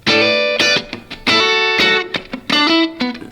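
Electric guitar played through a J Rockett Melody pedal with treble fully up, bright and trebly, several ringing chords and notes struck in a row, each decaying before the next, close and loud with no talking.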